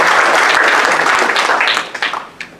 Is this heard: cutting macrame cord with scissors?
no